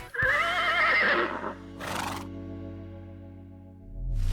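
A horse neighs loudly and close, with a shrill, wavering whinny that falls away, then a second shorter whinny burst, followed by a sustained low processed tone, as in a Ford Bronco promo; no speech.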